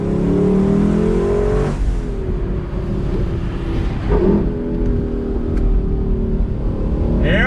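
A 2021 Lexus LC 500 convertible with its top down accelerates on throttle, a loud, steady engine roar with rising tones and gear shifts, heard from inside the cabin alongside wind noise.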